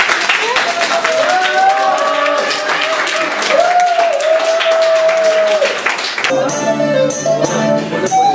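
An audience in Boleslav applauds warmly for several seconds, with dense steady clapping over a tonal background and voices mixed in, before the sound shifts to a sparser texture near the end.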